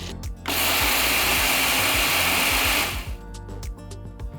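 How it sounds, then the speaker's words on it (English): A kitchen mixer grinder whirs loudly for about two and a half seconds as it grinds dried red chillies, roasted dals and spices, with softer clicks and knocks before and after. "Start by adding the dried red chillies with the stalks removed to the mixer jar, then add all the roasted dals and spices."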